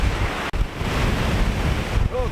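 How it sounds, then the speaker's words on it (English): Sea waves and strong wind at high tide at Kildonan on the Isle of Arran's rocky shore make a steady, loud roar of surf and buffeting wind noise on the microphone, with a brief dropout. "And the sea just sounds great, doesn't it?"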